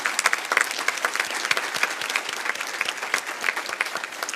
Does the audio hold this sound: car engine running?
no